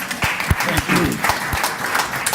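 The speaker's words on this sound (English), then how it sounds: "let's have a round of applause for these guys" A round of applause at a Toronto city works committee meeting, scattered hand claps in a council chamber with some sharper individual claps standing out, moderately loud, and a voice talking over part of it.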